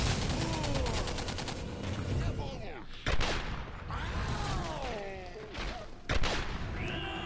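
Gunfire from the sci-fi shooter game Singularity, a powerful gun firing sharp close shots over dense game noise, with bursts and crashes recurring every few seconds alongside voice-like game sounds.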